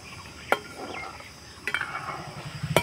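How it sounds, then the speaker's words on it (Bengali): Raw peanuts are stirred and fried in hot oil over medium heat, with a few sharp utensil clinks and scrapes against the pan over a soft background sizzle. "আর এইভাবে কিন্তু অনাবর্ত নাড়াচাড়া করে কিন্তু বাদামটাকে ভেজে নিতে হবে।"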